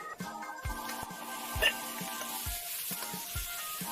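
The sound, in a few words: sizzling of aromatics and roast pork frying in a wok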